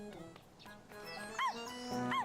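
Shiro, a dog in a video game, gives a few short whimpering yips and barks over a soft musical background, close and moderately loud.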